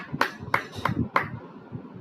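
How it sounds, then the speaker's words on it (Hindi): A group claps after a meditation session, four or five sharp, spaced claps over a soft murmuring background, fairly close and brief. "और आज के इस ध्यान के लिए जोरदार ताली बजाएंगे।"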